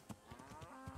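Cows mooing in the medieval video game Kingdom Come: Deliverance, a few short low bovine calls in quick succession, close and clear with no talk over them.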